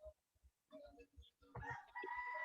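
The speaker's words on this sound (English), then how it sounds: "I'm hearing some chickens in the background, roosters in the background there." Chickens and roosters crowing and clucking faintly in the background, with a few low thumps and a voice-like call near the end, quiet and distant.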